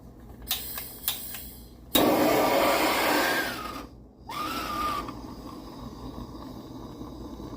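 A blowtorch heats a part on an electric stove top: a few light clicks, then a loud, steady roaring hiss that cuts out briefly and returns softer with a faint whistling tone before tapering off.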